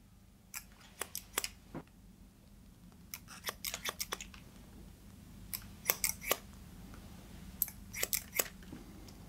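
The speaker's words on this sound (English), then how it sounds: "Scissor over comb for this." Scissors snip hair during a scissor-over-comb men's haircut, with crisp, close metallic cuts arriving in quick irregular bursts and short pauses between them, no talking.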